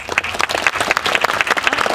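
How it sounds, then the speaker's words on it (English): An audience at a talk on local seafood gives a round of applause to welcome the speaker, a brief, steady burst of many hands clapping close by, with no voices over it. "give him a round of applause"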